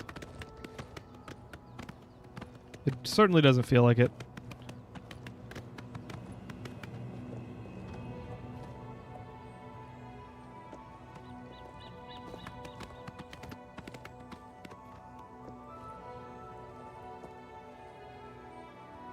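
Rhythmic clip-clop of horse hooves galloping in the video game Oblivion, steady under light game music, with a brief louder whinny early on and a person speaking briefly.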